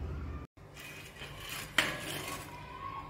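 A metal lid set down over a pan of bread cheese sandwiches cooking on a gas stove, one sharp clink after a brief pause amid low kitchen rustle and faint hiss, close by.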